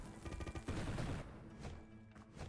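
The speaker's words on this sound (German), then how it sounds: "So, da mal eine Bombe hin." A bomb blasting in the dungeon-crawler game UnderMine, a dense rumbling burst with crackling debris that fades, followed by smaller game thuds, moderately loud with no speech.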